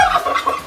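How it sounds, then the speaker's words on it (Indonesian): A male turkey gobbles at a ranch with sheep, one short loud warbling call that fills the whole moment with no talk over it. "ini suara khas dari kalkun jantan"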